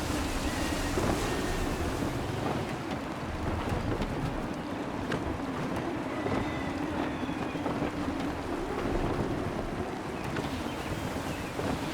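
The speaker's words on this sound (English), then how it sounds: "Gusty winds can be difficult to manage." Gusty wind and rushing waves around a sailing ship in Assassin's Creed III, a steady broadband roar of wind and water running loud and continuous throughout with no pauses.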